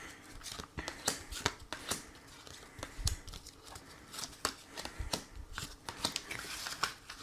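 Oracle cards being shuffled by hand for a reading, a close, steady run of crisp riffling slaps and flicks repeating in quick irregular bursts throughout.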